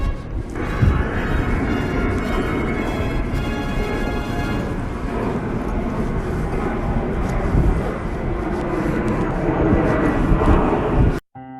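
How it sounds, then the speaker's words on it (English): B-25 bomber piston engines give a loud, sustained, rumbling roar with a rough, pulsing texture that holds for about eleven seconds before cutting off abruptly. "The B-25 bomber surely was a flying fortress."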